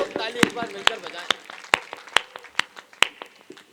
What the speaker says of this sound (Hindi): भैया के लिए सारे लोग ताली एक बार मिलकर बजाएं